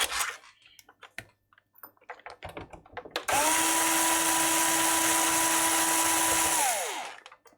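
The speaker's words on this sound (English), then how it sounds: "Why are these screws not coming out with the screwdriver?" Electric screwdriver whining steadily for several seconds while backing screws out of a device, loud and close, preceded by scattered clicks and handling knocks.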